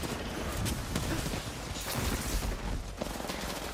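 Dense bursts of automatic gunfire from an Apex Legends championship match crackle continuously, overlapping rapid shots with a few sharper cracks, loud and busy throughout.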